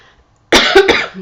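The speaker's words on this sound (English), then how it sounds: "So excuse me if I cough." A single harsh cough bursts out after a moment of silence, close and loud, in two or three rough pulses.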